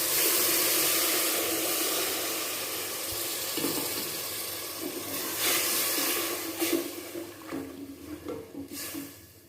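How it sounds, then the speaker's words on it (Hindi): Sugar syrup poured into semolina halwa as it roasts gives a steady, close broadband sizzle and hiss, with sharper spitting bursts toward the end. No one speaks. "अब हम उसमें वो चाशनी जो हमने बनाई थी वो इसमें डालने लगे हैं।"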